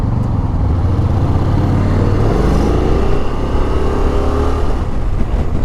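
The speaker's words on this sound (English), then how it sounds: "it's got really good engine braking actually. I can go down the box, right down to first" A Honda NC750X motorcycle engine braking through downshifts, its loud low drone shifting pitch as gears drop, heard close over steady wind rush.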